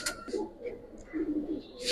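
Pigeons coo in short, close bursts, with a couple of low rolling calls over a brief moment and faint background noise.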